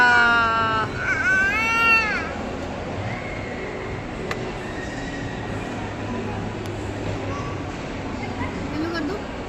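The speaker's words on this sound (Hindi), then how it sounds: "पूरे मॉल में चिल्ला रहा है।" A young child cries and screams in a shopping mall, loud wailing bursts at the start that fade into the busy, echoing hum of the mall with distant voices and ambient crowd noise.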